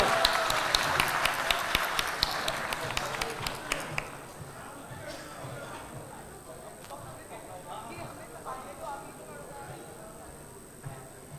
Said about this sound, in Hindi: तो वो तालियों के रूप में प्यार दिखा दीजिए।